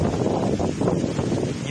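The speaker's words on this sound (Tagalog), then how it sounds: "Sobrang lakas po ng hangin." Strong wind in Calatagan, Batangas, during heavy rain roars and buffets the microphone continuously, a low rumbling rush with a voice partly buried underneath.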